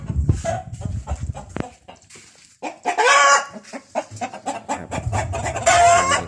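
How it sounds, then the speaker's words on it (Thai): Newly arrived Vietnamese Saigon breeder chickens cluck and squawk close by in bursts, with agitated flapping and a few louder startled calls, no talking. "ไก่ก็ยังขี้ตกใจอยู่นะครับ"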